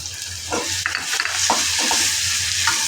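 Tomato tipped into a hot pan for a prawn curry (kolambi rassa) sizzles steadily while a spoon stirs and scrapes in short irregular strokes, close and moderately loud with no talking.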